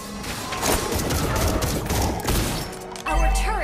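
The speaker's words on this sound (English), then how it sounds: "A crescendo of bullets!" Gunfire bursts in the Mobile Legends mobile game, a dense rattling volley of shots running throughout alongside game announcer callouts and effects, ending in a heavier booming hit.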